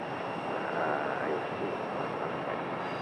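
An American Airlines Boeing 737 MAX in new livery taxiing for departure at Phoenix Sky Harbor: a steady, moderately faint engine whine and rumble heard from a distance, holding even for the whole few seconds.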